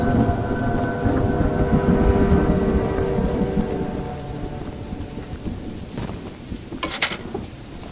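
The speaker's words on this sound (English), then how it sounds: "I hear a train in the distance." A distant train in the horror game Choo Choo Charles gives a low, heavy rumble with a droning tonal hum that holds steady, then slowly fades, followed by a few faint clanks and thuds near the end. No one talks.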